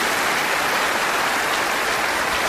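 A concert audience at a show in Vienna claps steadily in a dense, even wash of applause that holds at the same level from start to finish, with no voices over it.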